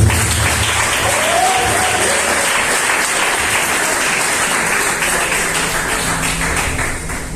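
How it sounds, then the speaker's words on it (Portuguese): A church congregation claps steadily, a dense continuous wash of applause from many hands filling the room, loud and sustained throughout. "Pode bater palmas para Jesus."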